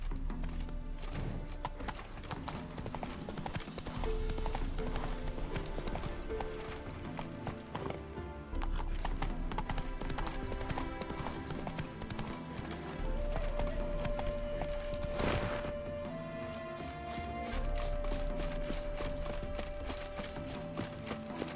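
A horse gallops in The Witcher 3: Wild Hunt – Hearts of Stone, with steady rhythmic hoofbeats running under continuous game music throughout.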